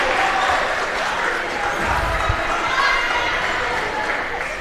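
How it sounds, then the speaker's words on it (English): Loud home crowd cheering at a high school boys basketball game between Gatesville and Lake Belton, a steady roar with a brief swell and faint shoe squeaks throughout. "The crowd is getting loud and proud and supportive of their Hornets here tonight."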